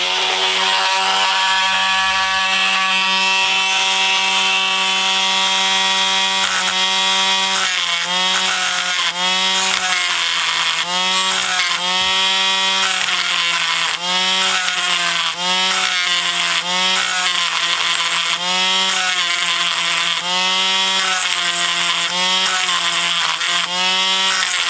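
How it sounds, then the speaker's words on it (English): A Dremel rotary tool grinds through the rivet centers of a 1976 Redline Hot Wheels American Tipper, giving a loud, steady high-pitched whine that rises and dips in short repeated pulses as the bit bites into the metal. "usually it's just easier to do it with the Dremel"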